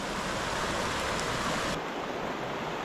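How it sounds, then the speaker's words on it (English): Great Seneca Creek flows in a steady, close rush of water, a continuous broad hiss with no talk, softening slightly partway through. "We're on Great Seneca Creek."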